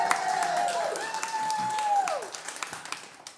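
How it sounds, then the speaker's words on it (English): An audience at a live music show claps and cheers in a sustained burst of applause. A whistle-like tone rises over the crowd before the clapping thins out toward the end. "I just want to give one more round of applause from Mooresville Tattoo Company"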